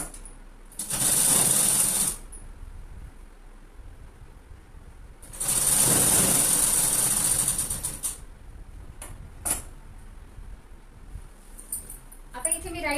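A sewing machine runs in two loud bursts while stitching a tuck along a fold in a blouse, each run lasting about one to two and a half seconds, with a few light clicks and handling noises between and after.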